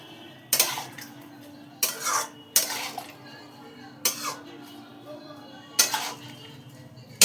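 A metal utensil clanks against a pot at irregular intervals while ingredients with jaggery powder are mixed in, each stroke a sharp scrape-and-clink over a quiet background.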